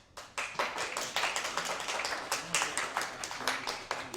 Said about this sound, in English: And we'll keep the round of applause on the recording.